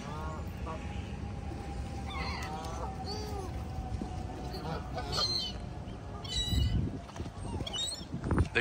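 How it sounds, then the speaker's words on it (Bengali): Waterfowl at Captain Tilly Park pond in Jamaica, New York call in repeated honking quacks at mid distance, scattered over a steady outdoor hum, with a person talking quietly and some nearby bumps and handling noise toward the end. "ওই যে পাতি হাঁস গুলো আছে"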